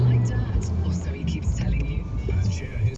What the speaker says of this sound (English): That black car that just roared up the right hand side of me